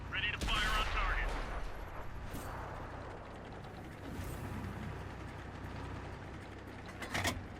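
A World of Tanks match with an M26 Pershing, where a tank gun fires with a loud blast near the start, then mechanical clanks and rumble sit under quiet talk before another sharp shot near the end.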